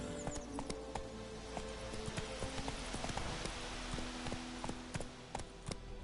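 Hooves of the horse Roach in a PS4 video game, a steady rhythmic clip-clop of galloping, fairly close and continuous throughout, with faint ambient noise beneath.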